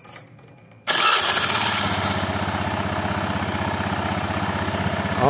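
A Honda Beat fuel-injected scooter engine cranks on the electric starter and catches almost at once, then settles into a steady, loud, close idle with a quick, even putter.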